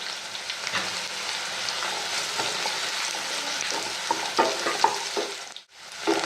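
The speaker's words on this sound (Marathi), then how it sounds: "हा कांदा असा परतून घ्यायचा" Sliced onion and finely chopped green chillies sauté in a pan for Saoji dal kanda, a continuous close sizzle with stirring scrapes and a few clinks, ending in a brief drop near the end.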